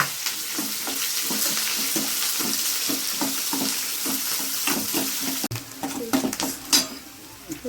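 Onions fry in a pan for a dried prawn dish, giving a loud, steady sizzle cut by rhythmic stirring scrapes; the hiss drops suddenly partway through, leaving scattered clinks and stirs.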